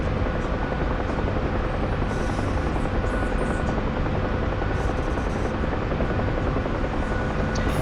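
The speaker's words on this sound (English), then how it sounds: "Does it look like his rotor blades are bending down?" A helicopter's rotor blades thump and roar continuously at close range, a loud dense wash of engine and blade noise holding steady throughout with no voices.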